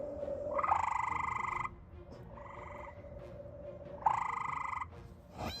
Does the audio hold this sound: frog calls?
yes